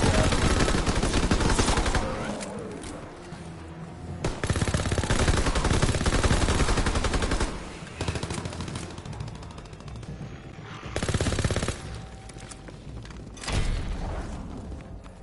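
Heavy video game gunfire in Darkest Shore, with long bursts of loud, rapid automatic shots and booms broken by short pauses, and no clear talk.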